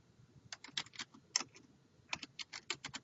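Quiet, rapid clicking of computer keys, bursts of keystrokes with a short pause in the middle, close but faint and with no one speaking.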